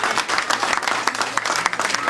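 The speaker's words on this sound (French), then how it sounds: "Vous pouvez applaudir." Applause from an audience at an event honoring a daycare in Harrisburg, Pennsylvania: a steady, dense wash of many hands clapping at close range for about two seconds.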